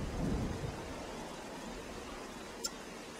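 Steady rain with rumbling thunder in the video game The Legend of Zelda: The Wind Waker, a heavy low roll early on under constant hiss, then a brief sharp crack near the end.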